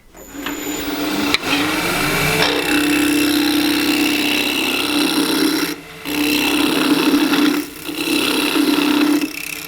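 Scrap wood spins on a wood lathe as a spatula is turned, giving a steady loud whirring hum with the scratchy scrape of a cutting tool against the wood. It cuts out briefly twice before resuming.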